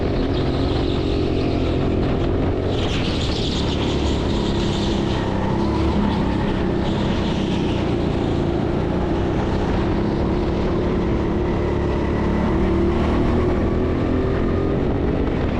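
An indoor racing go-kart's engine drones continuously and loudly during a lap at a TeamSport Sheffield karting track, with its pitch rising and falling through acceleration and corners and nothing else heard over it.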